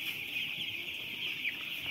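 Chickens cluck in a dense, continuous chorus from a flock of about 6,000 broiler chickens crowded together in an indoor coop.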